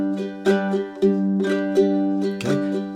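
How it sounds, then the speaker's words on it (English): A ukulele strummed through the chords of a song, steady down-up strokes with sharp rhythmic attacks and ringing chords, close and clear with no voice. "If I was strumming through it with no finger picking, it would sound like this."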